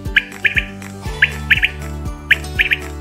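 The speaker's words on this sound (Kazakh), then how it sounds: "Бөдене бұтпылдықтайды." A quail calls its sharp three-note phrase, one short note and then a quick pair, three times in even succession. The call rings clear and fairly close over steady background music.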